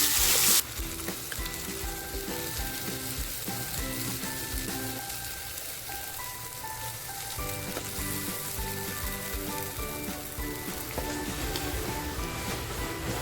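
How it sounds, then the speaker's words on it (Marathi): Loud, steady sizzling of a ground masala paste for Indian salmon fish curry frying in hot oil, continuous from start to finish, with a faint tonal hum underneath. "तेलामध्ये छान तापलंय आपलं आणि जो मसाला केला होता ना तो मसाला टाकते"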